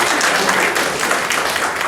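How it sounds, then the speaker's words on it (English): An audience at a software meetup applauds the earlier speakers, a loud, dense run of many hands clapping, with a voice faintly present underneath. "I want you to give a big round of applause to previous speakers that are standing there"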